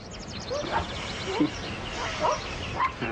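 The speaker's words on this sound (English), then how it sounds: "Oh, nice dog." A dog in a dramatized film scene gives several short barks and yips mixed with whimpers, spread across the moment amid a low background murmur.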